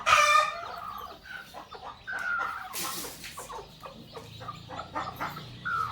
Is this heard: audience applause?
no